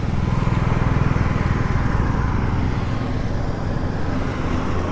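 A motorcycle engine drones steadily while being ridden along a road in Nepal, on the way from the Sonauli border to Pokhara; the close, continuous rumble carries light road and wind noise.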